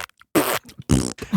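Bologna sloshed and squeezed inside a pocket gives off two loud, wet, fart-like bursts separated by quieter squelches, close and with no talking.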